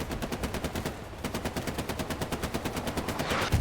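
Machine gun firing in a World War II multiplayer video game match, rapid sustained bursts of shots with a brief pause near the middle, loud and close.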